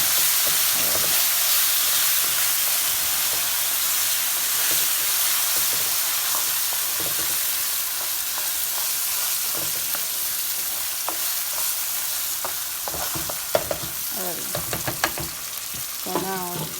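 Rice fries in tomato sauce in a hot pan, giving a loud, steady sizzling hiss with occasional spatters and scraping stirs growing busier near the end.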